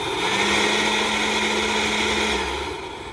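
Ryobi 18V ONE+ small battery blower running steadily at its middle speed setting 2, a loud continuous whirring motor hum with a sustained tone that winds down slightly near the end.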